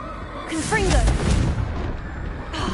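A Confringo blasting curse goes off in Hogwarts Legacy, a loud booming burst with crackling fire that sustains for about two seconds amid game ambience, with a voice speaking briefly over it.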